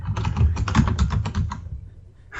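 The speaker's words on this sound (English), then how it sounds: "It sounds like mechanical keyboard problems." Fast, steady typing on a mechanical computer keyboard, with dense clacking keystrokes close up and no talk, stopping before a brief final click.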